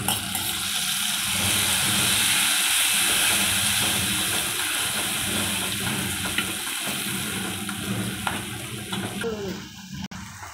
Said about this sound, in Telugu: ఇప్పుడు మనం తాలింపు వేస్తాం.